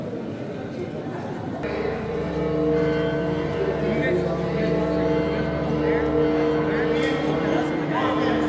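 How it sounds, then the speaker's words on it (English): Church bells ring during the daily Greek procession at the Church of the Holy Sepulchre in Jerusalem, sustained tones rising and swelling amid crowd noise and talk. "Hear the bells, they are on the way."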